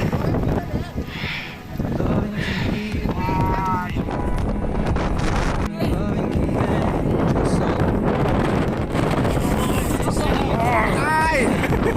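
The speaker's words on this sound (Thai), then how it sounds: "ลมปะทะ" Strong wind buffeting the microphone at a volcano summit on Changbai Mountain, a loud, continuous roaring rumble with gusty surges, with people talking over it.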